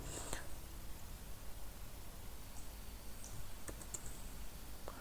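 Quiet keystrokes on a computer keyboard tap out a file path in a few scattered clicks, faint against a steady hiss and low whispery background.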